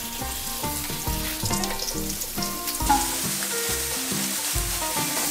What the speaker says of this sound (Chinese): 接下来就是直接来炒菜了。